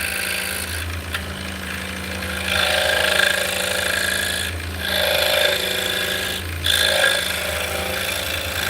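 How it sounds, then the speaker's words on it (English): Power tool cutting a rectangular mortise hole in wood in a workshop, a continuous whirring motor with bursts of louder grinding and scraping as the cutter bites, pausing briefly between passes, no voices. "So now we're cutting a mortise. So basically we're cutting a rectangular hole in here."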